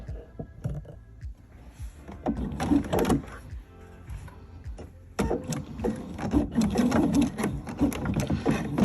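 A sewing machine stitching slowly along bias tape on a fabric tree skirt, close whirring runs with brief pauses and a louder, denser stretch near the end.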